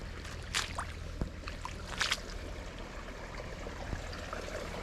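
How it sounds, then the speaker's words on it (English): Steady flowing water rushing outdoors through a wet field toward a small drain, a continuous wash with a few brief splashy bursts on top; no voices. "there's the run of water now."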